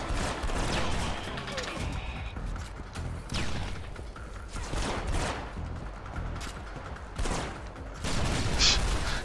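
Red Faction: Guerrilla ReMARStered video game combat with bursts of gunfire, clanking mechanical sounds and blasts in a continuous, busy stretch, with no clear talk over it.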